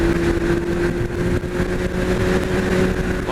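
Steady engine drone from a motorcycle ridden on a wet road, with a constant whine and broad road hiss running unbroken and fairly loud throughout.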